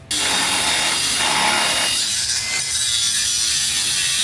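A power tool cuts through metal to separate an F-250 truck bed from the frame of an F-100 project truck, a loud, harsh continuous grinding rasp starting abruptly and running steadily close by.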